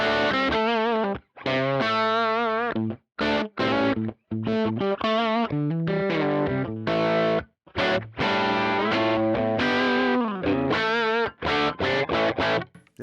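Electric guitar played through a Fractal amp modeler set to a Bassman model with a hairy, broken-up edge: distorted chords and single-note phrases ring out alone, separated by short silent gaps.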